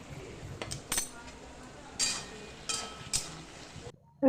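Spatula clinks and scrapes against a cooking pan while taro leaves are stirred and dried out for a vegetarian dish, with a few sharp metallic taps standing out over soft rustling, fairly close and moderate in level.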